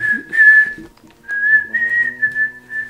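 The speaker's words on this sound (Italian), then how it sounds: "Fischiettando così nessuno si accorge di niente." A person whistles a short, clear, high tune close by, two phrases separated by a brief pause, with faint rustling and handling sounds underneath.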